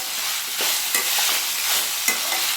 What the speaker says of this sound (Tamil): முள்ளங்கி சேர்த்துக்கலாம். நல்லா வதங்கட்டும்.